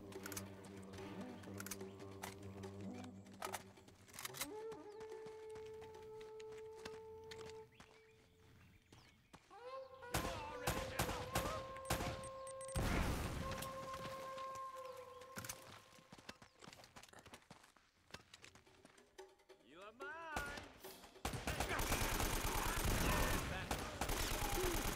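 AK rifle gunfire in Uncharted, bursts of rapid shots scattered among game music and effects, with a dense loud stretch near the end.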